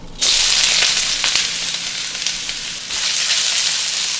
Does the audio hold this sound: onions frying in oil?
yes